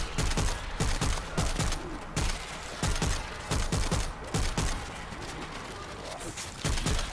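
Heavy payload rifle gunfire in the World War Z video game, with dense bursts of rapid shots in clustered volleys separated by brief pauses, loud and continuous across the clip.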